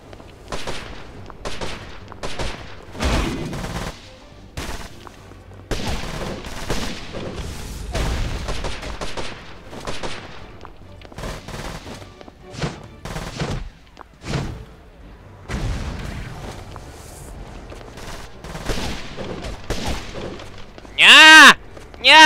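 Gunfire in the online fighting game Archeblade, where a teammate's shots hit their own side: repeated sharp bursts and thuds scattered unevenly across the stretch, with a bright electronic effect near the end.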